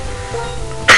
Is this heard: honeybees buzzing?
no